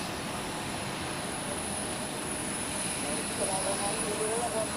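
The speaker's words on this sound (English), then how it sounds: "we have the first Swiss heavy of this rush now taxiing out. It's an A330" Swiss Airbus A330 widebody taxiing out at Zurich Airport during a departure rush, a steady distant jet engine rumble and whine filling the background.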